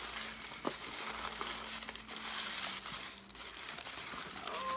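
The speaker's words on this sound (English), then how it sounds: "So it's in the wrapper. And I'm unwrapping it." Crinkly plastic wrapper being pulled open from around a pair of Fenty x Puma jelly slides, a steady close rustle and crumple lasting several seconds, with no talk.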